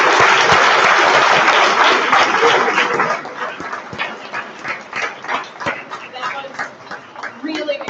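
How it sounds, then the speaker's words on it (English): A large college audience bursts into a big round of applause for hundreds of students and mentors, dense and loud for about three seconds before trailing off into scattered claps and murmuring voices. "let's give a big, huge round of applause to our 300 students and mentors"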